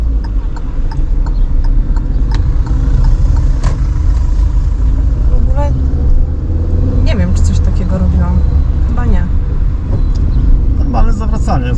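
A car engine runs steadily while driving through city traffic in low gears, a continuous loud rumble with someone talking over it throughout.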